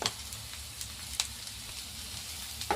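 Crushed roasted peanuts fry in oil with coriander powder and turmeric, making a soft, steady sizzle with occasional faint crackles. The sound is low and constant, with no talking.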